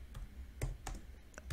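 Keys clicking on a computer keyboard while a git command is typed, with a handful of quiet, separate keystrokes spaced irregularly over a soft background hiss.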